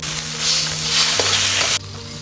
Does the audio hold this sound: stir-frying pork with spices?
yes